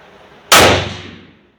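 A single close, loud rifle shot on a range, fired through a Cvlife JackalHowl 3-9x40 scope, with an abrupt crack that rings out and fades over about a second against quiet outdoor background.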